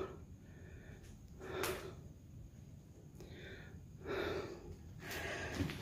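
Heavy, ragged breathing after a fright in an abandoned house: several loud, noisy breaths and gasps in uneven succession, close to the microphone, with no speech.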